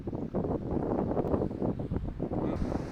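Strong wind buffets the microphone outdoors in a continuous loud rumbling roar with gusty fluctuations throughout.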